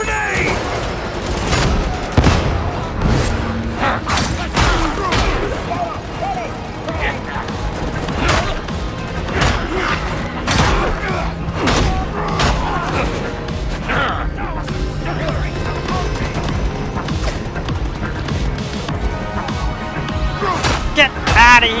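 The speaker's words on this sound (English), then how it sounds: "Throwing grenade!" Combat in Warhammer 40,000 Darktide: a grenade bursts amid rapid, repeated gunfire and heavy impacts, loud and close, with voices speaking over the chaos.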